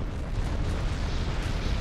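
Explosion as an enemy is hit in the jet combat game Ace Combat 6, a dense, sustained rumbling blast that fills the whole moment at steady loudness with no talk over it.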